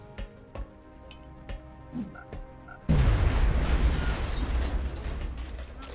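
In XCOM: Enemy Within, a few mechanical clicks and clinks lead into an alien grenade detonating with a sudden, loud, deep boom, followed by several seconds of rumbling, crackling aftermath.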